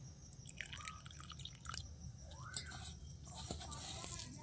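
Small splashes and drips of water fall into a puffed rice dough mixture, faint, scattered plops and wet squishes up close with short gliding tones in the background.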